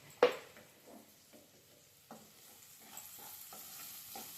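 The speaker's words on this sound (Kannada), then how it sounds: "ಒಂದು 2 ನಿಮಿಷ ಫ್ರೈ ಬಿಟ್ಬಿಡೋಣ" Two eggs frying in a pan for egg burji, a faint low sizzle with a sharp clink at the start and occasional light stirring taps, quiet and without voices.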